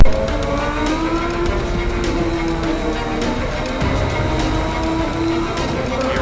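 A cold Radical race car engine revs high in a lower gear, a steady loud drone with rising and falling pitch lines held close for the whole stretch.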